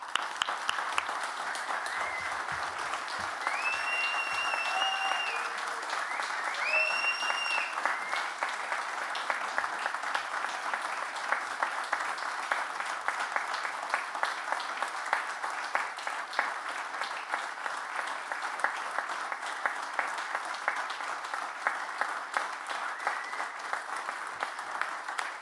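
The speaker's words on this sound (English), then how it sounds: "So I just thought we'd do a round of applause and raise the roof for a really missed part of our culture." An audience at a memorial gathering in Whelan's gives a long, sustained round of applause. Dense, even clapping continues for over twenty seconds, with a few brief whistles near the start and no talking over it.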